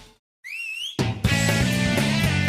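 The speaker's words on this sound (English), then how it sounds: "When any Sonic fan hears that whistle, they know exactly what they're in for." A wavering, rising whistle line opens a Sonic Adventure 2 soundtrack track, held alone for about half a second before loud full-band music crashes in and continues.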